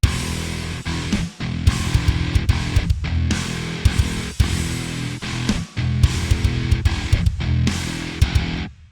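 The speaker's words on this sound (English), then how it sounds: "it would sound like this with no pitch bend" MIDI-programmed modern metal guitars with no pitch bend play chugging, palm-muted riffs in tight rhythmic bursts with brief stops between phrases, loud and dense, with no voices.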